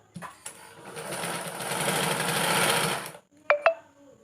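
A sewing machine stitches fabric for a silk Onam skirt in one steady, close whirring run of about three seconds, with a few short clicks and taps before and after.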